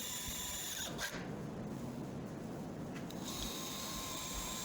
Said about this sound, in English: And now we're drilling out those marks.